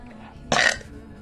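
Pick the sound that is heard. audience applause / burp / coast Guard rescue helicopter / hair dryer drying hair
burp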